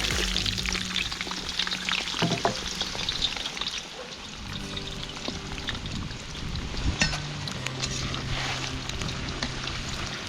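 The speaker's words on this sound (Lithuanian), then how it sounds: "Ir ką, kepama nukytėj bulves." Potatoes fry loudly in hot oil in a cauldron over an outdoor campfire, a dense close crackle with bursts of stirring scrapes and sputtering.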